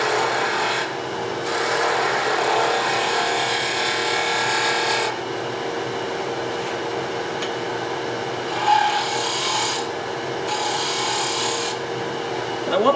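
A wooden coffee scoop handle is being sanded and shaped on a turning project, producing a dry, raspy rubbing. The rubbing comes in repeated strokes over a steady background hum, close and moderately loud.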